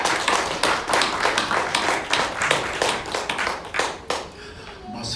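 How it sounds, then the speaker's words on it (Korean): A masked church congregation at a Sunday service claps together in a strong, rhythmic beat that carries for about four seconds, then stops abruptly, leaving a quieter room with faint voices. "하나님 영광의 박수 드리겠습니다"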